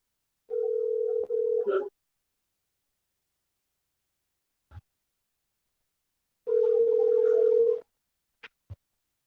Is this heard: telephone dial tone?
yes